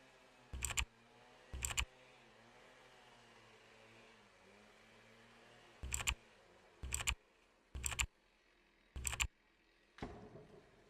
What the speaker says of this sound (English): pointer finger typing